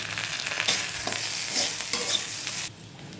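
Ginger paste, green chilli paste, salt, turmeric and red chilli powder fry in a pan for a fish head muri ghonto, a steady close sizzle with stirring scrapes that drops off sharply near the end, no voices.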